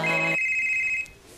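A telephone ringtone sounds loud and close: a brief rich chime burst, then a sustained high electronic tone that stops abruptly after about a second, with no voices.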